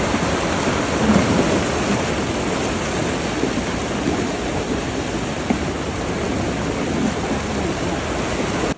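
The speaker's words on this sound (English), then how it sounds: "rain continued relentlessly into the evening" Heavy rain pouring during a flood storm in New York and New Jersey, a dense continuous hiss with low thundery rumbling underneath, steady and loud throughout.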